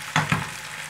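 Sliced pork stir-fried with garlic and pepper in rice bran oil: a continuous hot sizzle with two quick scraping stirs of the spatula, close and clear.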